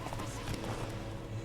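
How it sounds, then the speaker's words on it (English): Horse hooves clip-clopping in The Witcher 3: Wild Hunt, a steady galloping patter under a dense game soundscape, continuous and moderately loud. "I was busy galloping my horse"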